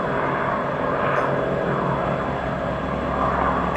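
A Douglas DC-6 propeller airliner taxis at Ted Stevens International Airport in Anchorage, giving a steady, loud broadband engine drone that holds without change throughout.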